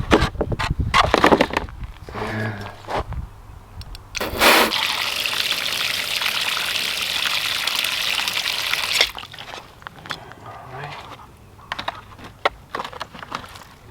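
Water pours and gushes into the bottom of a dried-out seedling tray in a garden, a steady rushing flow lasting several seconds between scattered knocks and handling clicks, close and fairly loud with no voices.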